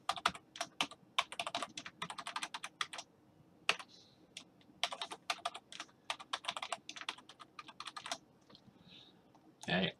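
Rapid clicking keystrokes on a computer keyboard come in quick bursts with brief pauses, fairly quiet and close, as a password is entered.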